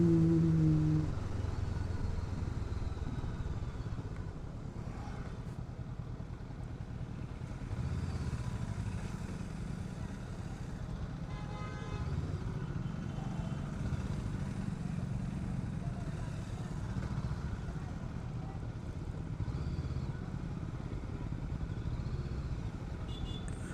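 A Honda NX500 motorcycle engine runs on the road with a steady, continuous low rumble and wind noise throughout, fairly loud and unbroken.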